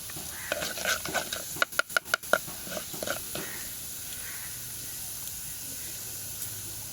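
Fenugreek seeds hit hot oil for a homemade cuttlefish curry, a brief burst of crackling with a few sharp pops, then a steady soft sizzle fading to a quiet hiss.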